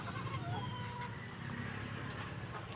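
Faint clucking of laying hens at a distance over a steady outdoor background hum, with a few soft scattered calls.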